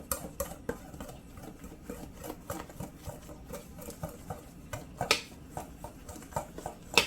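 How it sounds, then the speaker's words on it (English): A whisk blends banana bread batter for a sourdough-discard loaf. Quiet, quick, uneven tapping and scraping against a bowl continue throughout, soft and close, with no speech. "And then you just make sure that you whisk all of this together just to incorporate everything."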